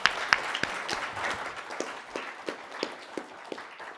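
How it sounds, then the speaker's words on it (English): A lecture audience applauds, a thin scattering of claps with individual sharp hits standing out, fairly soft and fading over a few seconds. "Big round of applause, perhaps."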